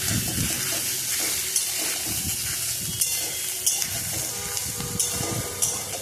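Pointed gourd (potol) frying in a pan for a potato curry gives a continuous hissing sizzle, with occasional light clicks and scrapes over the steady noise.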